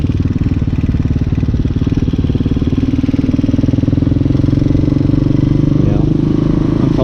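A Hawk 250 motorcycle engine cruising along, a loud, steady, close drone with a constant throbbing pulse and some rattling clatter that holds through the whole stretch.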